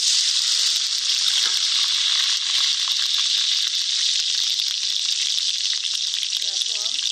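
Whole spices fry in hot oil for a chickpea biryani, giving a loud, steady, close sizzle that crackles on without a break.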